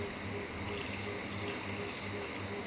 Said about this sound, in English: just simply pour some water.